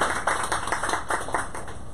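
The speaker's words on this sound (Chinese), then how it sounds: "那就借大家的手拍拍手，欢迎李老师" An audience claps to welcome the photographer Li Zhensheng at a bookstore talk, a steady round of applause from a small crowd, close and even, with no voices over it.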